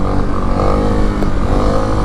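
A 2023 Kawasaki KLX300SM supermoto's single-cylinder engine revs hard and steady for a wheelie, a loud, close, continuous buzzing roar with a slight rise in pitch over two seconds.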